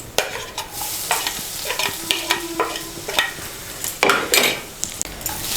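Grated coconut stirred into hot oil in a pan, close spoon scrapes and knocks in uneven strokes over a light frying sizzle, no one speaking.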